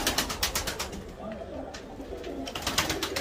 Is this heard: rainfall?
no